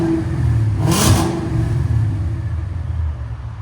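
A 770hp supercharged Ford Mustang GT 5.0L V8 with Valvetronic Designs exhaust valves closed gives a low, steady rumble at idle with one brief rev swelling and falling away, close and muffled.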